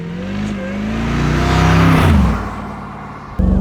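A 2007 Mercedes SLR McLaren Roadster with a supercharged V8 accelerates hard, its engine note and supercharger whine rising loudly up close before easing off, then picking up again sharply at the end.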